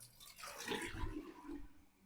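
A household toilet flushes in a bathroom, a rushing, roaring swirl of water that swells through the middle and drains away, close and alone with no talking.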